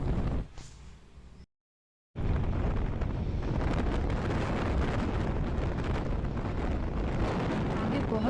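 Strong wind blasting outdoors during a trip in Chikmagalur, a loud continuous roar buffeting the microphone, briefly cut to silence before surging back at full force.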